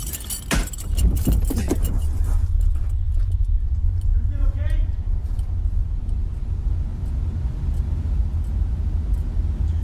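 A set of keys jangles in short bursts up close at the start inside a car, then fades to a steady low vehicle rumble, with people talking over it.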